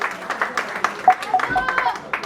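Scattered clapping from an audience at a political party militants' day gathering in Washington DC, individual claps popping out irregularly while people talk over them.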